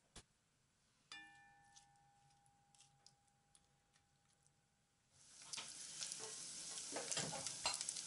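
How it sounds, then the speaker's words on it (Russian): Chicken frying in vegetable oil in a deep sauté pan over high heat, heard as a sizzle that starts about five seconds in and stays moderately loud, after a few quiet clicks and a short ringing tone. "На большом огне разогреем глубокий сотейник с растительным маслом и обжариваем курицу 5-6 минут до золотистой корочки."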